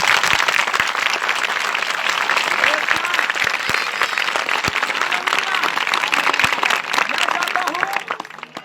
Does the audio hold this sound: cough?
no